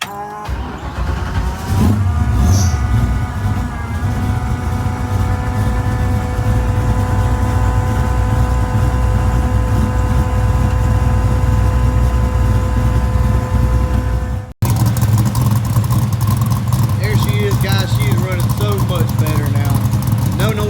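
A car engine that has had its loud valve train noise fixed runs steadily and loudly nearby, with a constant droning hum, a momentary dropout, and then the running resumes.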